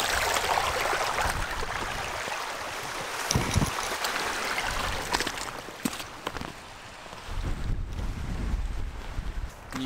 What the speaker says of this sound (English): I'm just standing in the river right now